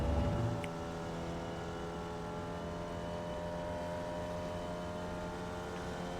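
Formula Vee race car engine held at full throttle on Virginia International Raceway's North track in iRacing, a steady droning buzz with harmonic whine, loud and continuous after a brief louder burst at the start.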